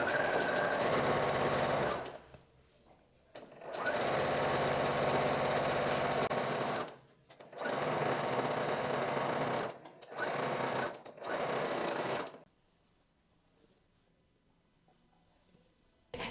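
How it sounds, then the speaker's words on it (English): Sewing machine stitching a big blouse collar, running loud and close in several bursts of about one to three seconds with short pauses between them, then falling quiet near the end. "once we have sewn the collar on"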